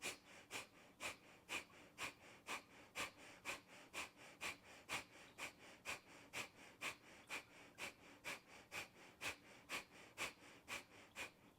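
Sharp rhythmic yoga breaths pumped from the belly, a steady train of about thirty quick, evenly spaced nasal bursts, close and clear with no talking.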